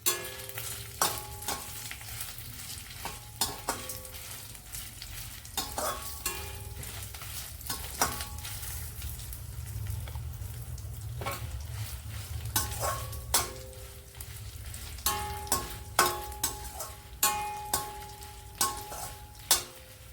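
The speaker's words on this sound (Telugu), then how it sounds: "సిమ్లో పెట్టుకుని వేగించుకోవాలండి." Urad dal, chana dal and cumin seeds fry in oil in a pan, a steady close sizzle lasting throughout, broken by repeated sharp clicks and scrapes of a spoon stirring against the metal.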